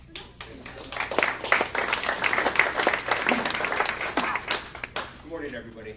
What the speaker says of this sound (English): So everybody round of applause for Les.